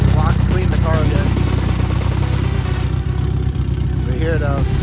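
A built Honda Civic EG hatchback engine runs at a steady idle, a constant low rumble throughout, with voices talking over it.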